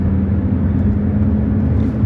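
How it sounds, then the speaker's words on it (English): Loud cars passing outside, heard as a steady low roaring rumble with a droning hum that holds throughout, fairly loud and unbroken. "These loud cars get me worried where they're at"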